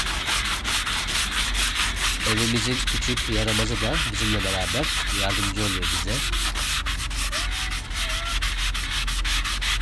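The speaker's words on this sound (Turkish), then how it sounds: "bu çatlakları da bu şekilde çatlakları da zımparayla yok edeceğiz" Continuous rough scratching of sandpaper rubbing over cracks in wood, loud and close, with a voice speaking briefly partway through.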